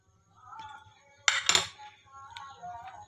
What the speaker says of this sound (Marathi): मी गॅसवर कढई ठेवली.